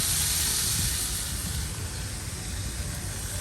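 Beef tenderloins seared in a cast iron pan inside an RV kitchen give off a steady, close, even sizzling hiss that holds for a few seconds with no talking.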